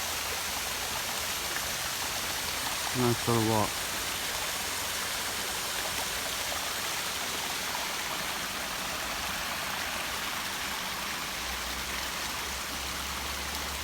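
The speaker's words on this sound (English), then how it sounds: "There's a little waterfall heading down into Pearisburg." A small waterfall beside the Appalachian Trail near Pearisburg, a steady broadband rush of falling water heard from nearby, with someone briefly speaking over it early on.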